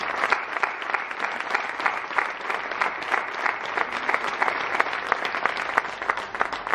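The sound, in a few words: audience applause at political event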